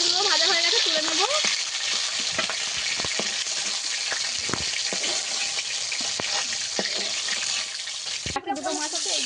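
Bhola fish pieces fry in hot oil with a steady, bright sizzle and occasional clicks of turning and lifting the pieces; a voice talks briefly at the start and again near the end.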